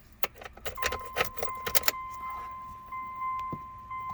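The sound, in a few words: car key turning in the ignition of a 2001 Mitsubishi Mirage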